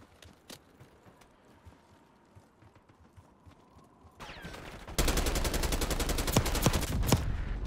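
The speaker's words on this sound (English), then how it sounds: "Are you shooting a rocket launcher at me?" Video game gunfire crackles in scattered shots before erupting into a loud, sustained rapid burst of automatic fire, with a rocket launcher blast rising just before the barrage.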